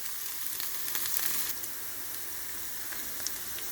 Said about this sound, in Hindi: सो भिंडी को मैंने धो के ड्राई करके काट लिया स्मॉल पीसेस में। सो इस वक्त ये फ्राई हो रही है।